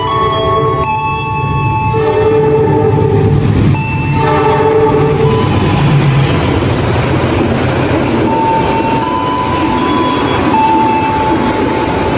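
The Jayabaya passenger train rumbles loudly past through Jatibarang station, its horn sounding in long tones early on, with the continuous roar of wheels on rails filling the scene.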